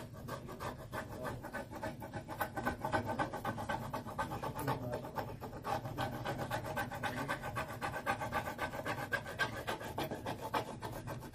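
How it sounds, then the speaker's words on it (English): A transfer sheet, plastic side up, is rubbed by hand in quick repeated back-and-forth strokes, producing a close, scratchy rasping rhythm that continues steadily for about eleven seconds. "You just rub it across the transfer. Make sure that you've got the plastic side up. And you just rub, rub, and rub."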